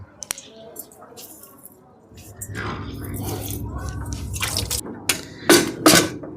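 Milk squirts from a buffalo's teats into a bucket in a few short, liquid spurts, most distinct toward the end, with a quiet voice murmuring nearby.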